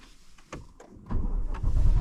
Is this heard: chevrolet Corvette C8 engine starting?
yes